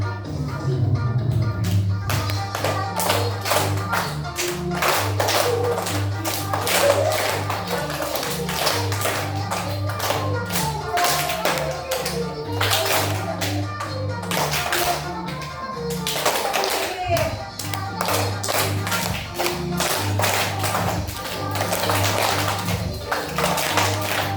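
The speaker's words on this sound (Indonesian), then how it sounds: "tepuk tangan" Pairs of people clap hands together in a dense, steady patter of sharp taps over a bass-heavy music track, loud and continuous throughout.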